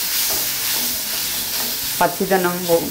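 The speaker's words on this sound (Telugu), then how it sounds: "పుదీనా చక్కగా వేగిపోయింది. నీరు లేకుండా మొత్తం డ్రైగా వేయించుకోవాలి." Mint leaves dry-roast in a pan for chutney, giving a steady close hiss and sizzle, with a short voice-like tonal sound near the end.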